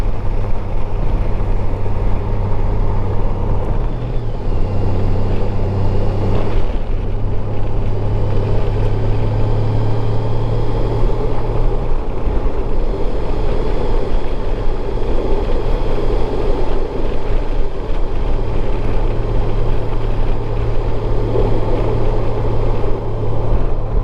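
A 2018 Honda Goldwing GL1800 Tour motorcycle out on the road, heard as a loud, continuous drone of engine and wind noise. It holds steady for the whole stretch, with a slight shift in tone partway through.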